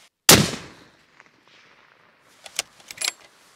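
A single loud, close Christensen Arms MPR rifle in .300 PRC fires one booming shot with a long decaying echo, followed after a pause by a few light metallic clinks and rattles.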